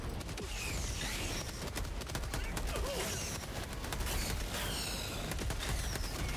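Sentry turrets firing in a co-op shooter video game, heard as rapid, rattling bursts of automatic gunfire repeating throughout, fairly faint and mixed with other game noise and clattering effects.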